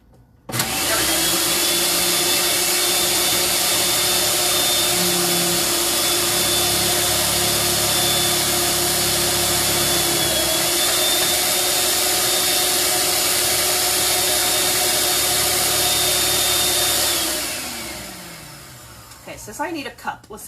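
A food processor fitted with a shredding grater blade runs steadily on zucchini, a loud continuous motor whine and grinding that holds for about seventeen seconds before winding down, followed by a few light clicks.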